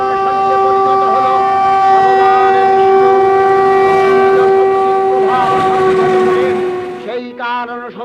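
A passing train sounds a loud, sustained horn close by for several seconds, holding one steady tone over a rumbling background. It fades near the end as other shorter sounds come in.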